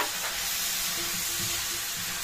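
Chicken and pineapple chunks sizzle and fry in a pan, a steady close hiss with faint stirring throughout.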